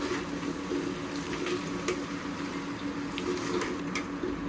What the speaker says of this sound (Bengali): টমাটো কেঁচা এখন একটু ভালোভাবে নাড়াচাড়া করবো